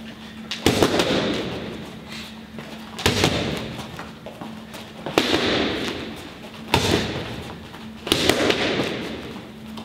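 Kickboxing punches land on focus pads in a pad-work drill, giving five sharp, loud impacts spaced roughly two seconds apart, each slap followed by a brief rustle, with a steady low hum underneath and no talking.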